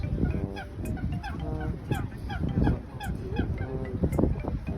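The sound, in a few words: ducks quacking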